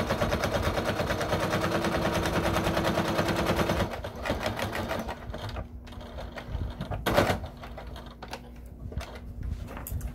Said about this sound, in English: I'm going to sew right down that diagonal line that I marked.